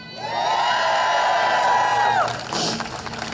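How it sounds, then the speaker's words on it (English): A crowd at a rally cheers and whoops in one sustained collective shout lasting about two seconds, loud and close, then breaks off into scattered voices. "if you can commit to making calling both of your senators and your representative this week twice, let me hear a cheer"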